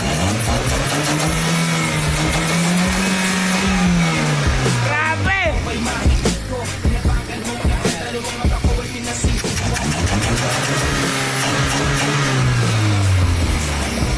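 A car engine running on a downgraded stock carburetor, revving in repeated rising and falling swells with a steady idle between, loud and close, while someone shouts excitedly over it.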